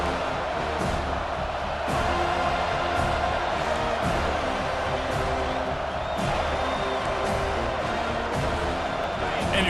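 Stadium crowd roar in EA Sports College Football 25, a steady loud wall of cheering that swells after a big third-down play, with a commentator's voice running over it throughout.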